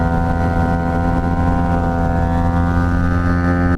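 A 2021 Yamaha MT-07 motorcycle being ridden, its engine holding a loud, steady, even drone throughout before cutting off abruptly at the end, with no voices.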